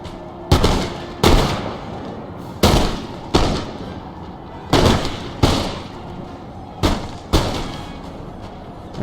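Musket volleys crack out in Empire Total War as Prussian and British troops trade fire in a forest, sharp loud shots landing in pairs at a steady uneven rhythm, each followed by a brief rumbling decay.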